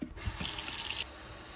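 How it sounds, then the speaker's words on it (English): Water runs steadily from a tap into the reservoir of a rotating 360 bubble machine, a short close fill that starts abruptly and cuts off cleanly after about a second. "we can fill this up with our bubble concentrate and water"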